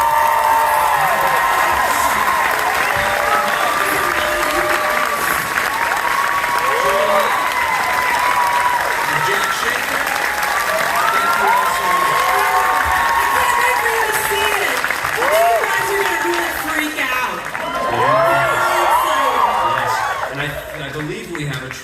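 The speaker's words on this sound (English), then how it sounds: "Let's give it another round of applause" A large fan convention audience in a great hall claps and cheers continuously for a Marvel Studios panel, roaring applause with whoops that holds steady before tapering slightly near the end.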